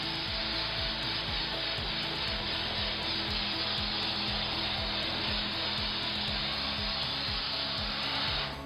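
A MondoVap 2400 steam vapor cleaning system scrubbing with its tool angled about 45 degrees, giving a loud, steady, unbroken hiss of steam and motor from start to finish, with no talking.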